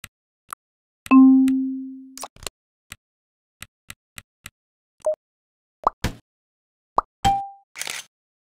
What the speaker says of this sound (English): play a marimba sound effect